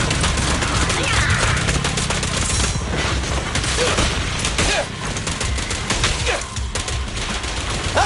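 Rapid, continuous gunfire from the video game Zenless Zone Zero, loud and dense throughout, with bursts of shots layered over game effects and no pauses.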